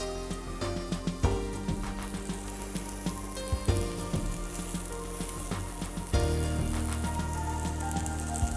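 Morel mushrooms fry in a pan with a continuous close sizzle and scattered crackling pops, the hiss swelling louder near the end.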